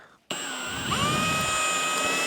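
A drill runs continuously as it bores a hole into an MFT workbench top through a Parf Guide MK2 jig, starting abruptly and holding a steady close whine with no talk.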